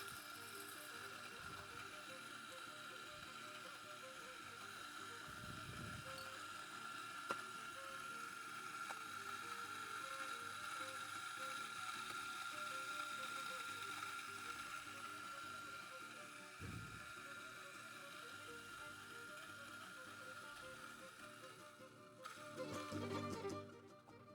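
A Turin DF54 coffee grinder set to 13.5, grinding medium light roast Guatemala beans, with a steady mechanical whirring hum that holds for about twenty seconds before stopping, quiet and close.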